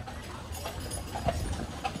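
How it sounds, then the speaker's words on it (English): Faint clip-clop of horse hooves on Mackinac Island, several steady, soft hoofbeats heard a little distant over background ambience. "So those are the most well-trained horses on the island"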